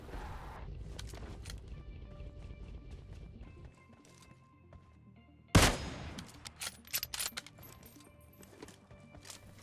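Gunfire in the PUBG battle royale game, with a sudden sharp shot cracking out mid-clip after a stretch of low background rumble, followed by a few scattered, quieter reports.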